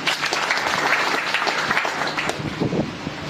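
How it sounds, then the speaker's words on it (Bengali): Audience at a DXN program in Rajbari breaks into sustained applause, a close, dense patter of many hands clapping continuously and fairly loudly throughout. "সবাই সবার জন্য একটা করতালি দিই।"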